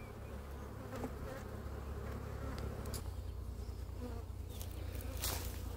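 Honeybees buzz steadily and loudly during a hive split, a dense continuous drone close by, with a few sharper individual buzzes passing near.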